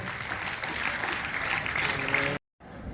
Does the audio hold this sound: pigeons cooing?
no